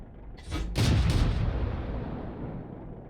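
A tank cannon shot in the World of Tanks video game, a sharp loud boom with a heavy rumbling tail that slowly fades, with a fainter shot just before it.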